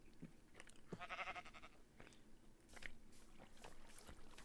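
A sheep in the Minecraft video game bleats in a short wavering call near a village, alone over low steady game background noise.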